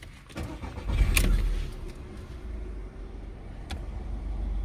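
A 2014 SEAT Ibiza Toca engine starting: a brief starter whirr and catch, then a steady low idle inside the car, moderately loud and close.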